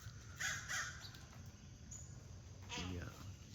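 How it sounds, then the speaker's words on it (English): Crows caw outdoors in a wild setting where squirrels gather, giving a few harsh, fairly close calls in short bursts over quiet background noise. "Oh, it's crows. Look at the crows."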